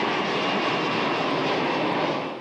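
Airbus A330 airliner engines roaring at takeoff on an evening transatlantic departure, a loud, steady broadband jet rumble sustained throughout without breaks, fading slightly at the very end.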